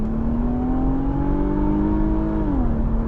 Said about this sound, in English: Look at that acceleration, and the engine sounds so good too.